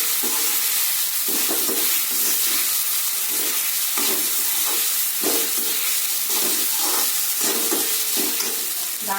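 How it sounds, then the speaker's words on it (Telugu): Washed flattened rice (poha) is stirred into hot tempering in a pan for poha pulihora, giving repeated scraping stirs over a steady sizzling hiss, close and fairly loud, with no talking. "ఈ కడిగి పెట్టుకున్న అటుకులు వేసేయండి. వేసి అన్నీ కలిపేసేయండి."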